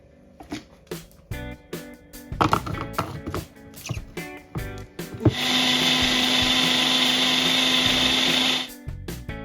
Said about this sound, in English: Now I'm going to blend.